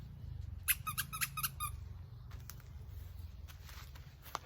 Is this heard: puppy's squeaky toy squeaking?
yes